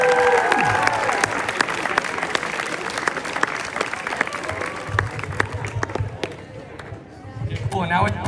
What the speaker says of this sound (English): Can we have one more round of applause for all the fall sports?